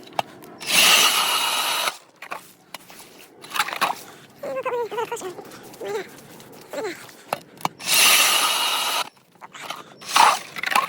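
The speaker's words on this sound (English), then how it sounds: "Come drill a couple holes with me." A powered ice auger bores into a frozen lake on a foggy day, roaring loudly in two bursts near the start and near the end, with voices talking in the quieter stretch between.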